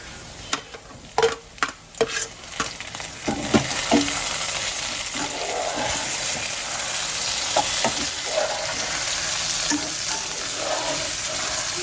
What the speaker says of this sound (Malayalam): നമ്മുടെ സോസേജ് നല്ലോണം ഫ്രൈ ആയി വരുന്നുണ്ട്